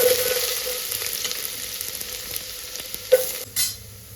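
Finely chopped onion frying in hot oil inside a large pressure cooker, a steady loud sizzle with a few scraping stirs near the end, close up and without talking.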